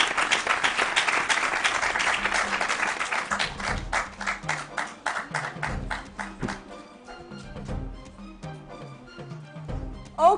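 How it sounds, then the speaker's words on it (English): Audience applause welcomes quiz contestants back on stage, a dense round of clapping that thins into scattered individual claps before fading out. "With a round of applause,"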